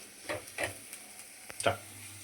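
A spatula scrapes and stirs bitter gourd fry seasoned with chili powder, salt and crushed garlic in a pan: several distinct scraping strokes over a faint background, close and moderately loud.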